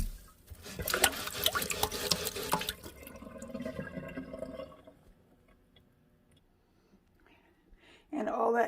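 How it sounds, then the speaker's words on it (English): A cast iron pan is washed out with plain water and a plastic scrubber: close, busy splashing and scraping for about four seconds that fades into a quiet stretch, then a sudden loud burst of noise at the end. "I'm just going to use plain old water and my plastic scrubber here."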